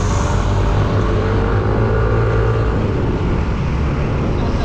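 A Yamaha Majesty 155 scooter engine revs steadily on a road test ride, a loud continuous droning roar with wind noise and no pause throughout.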